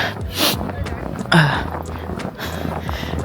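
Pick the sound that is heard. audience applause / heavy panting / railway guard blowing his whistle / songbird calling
heavy panting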